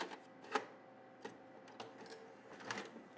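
An ADAT digital tape machine takes in a tape with a short run of sharp mechanical clicks and clunks spread over a few seconds, close and fairly quiet, with no talking.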